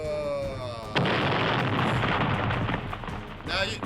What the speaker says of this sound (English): Massive explosions all over the place!